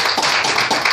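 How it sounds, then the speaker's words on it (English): A church congregation claps hands during a Sunday morning service, a brief, loud and close burst of overlapping claps with no voices. "Let's give the Lord a hand clap."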